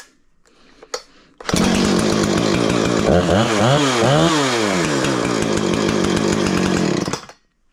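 A Husqvarna 455 Rancher chainsaw with a decompression valve starts and runs nearby, a loud steady roar with a few revving swells in pitch before cutting off; a faint click comes before it fires up.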